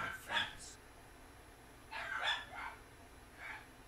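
Dogs bark in a video game, in three short, fairly faint bursts spaced apart over a quiet background.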